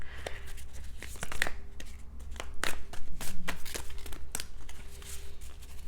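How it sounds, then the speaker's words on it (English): Tarot cards being shuffled by hand, a series of sharp riffles and slaps with papery crinkling between them, close and clear with no talking. "One more shuffle here."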